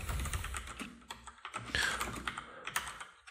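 Rapid clicking of computer keys, irregular bursts of typing at close range with brief pauses, no voices.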